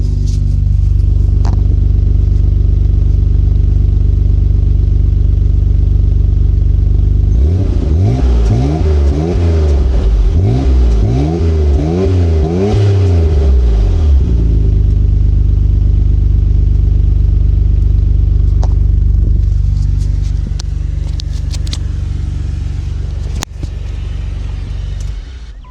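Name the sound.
Nissan car engine cold start and revving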